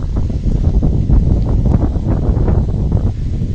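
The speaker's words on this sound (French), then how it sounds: "je vous laisse entendre le vent et la glisse" Steady wind roaring across the microphone with a continuous low rushing hiss of skis gliding over snow, no pauses, fairly loud throughout.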